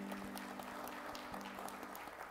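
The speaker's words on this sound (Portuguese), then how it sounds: "Palmas para o Lucas." Faint applause rises in a church, a steady patter of scattered hand clapping from a congregation heard at a distance over a low hum.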